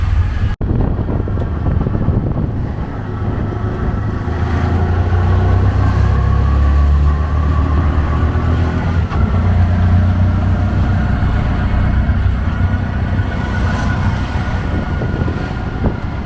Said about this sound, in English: Traffic is quite interesting, but for how crazy it is, they somehow make it work.